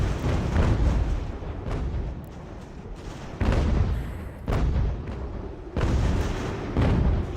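Mortar fire in Ultimate General: American Revolution, heavy booming blasts thudding in repeatedly at irregular intervals, loud and close, layered over a continuous low rumble of battle with no talking.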